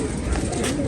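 A pigeon gives a short, close, low coo that fills the brief moment.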